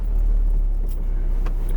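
A 2011 Mini Cooper Countryman SD with a newly replaced hydraulic clutch line rolling slowly forward and back, a steady deep engine rumble with a couple of faint light clicks, no talk.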